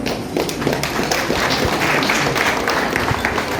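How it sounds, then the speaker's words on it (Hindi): Audience applause for a schoolgirl prize winner at a drawing competition award ceremony, dense steady clapping from a crowd lasting throughout, fairly loud and close. "बालिका के लिए जोरदार तालियां हो जाए।"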